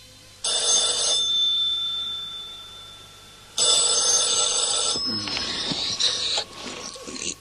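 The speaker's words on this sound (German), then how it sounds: "Am nächsten Morgen klingelte bei Wolf Siebert das Telefon und schreckte ihn aus dem Schlaf hoch." A telephone bell rings in two long loud bursts separated by a short pause, close and alone in a quiet room, followed by brief handling rattles as the receiver is picked up.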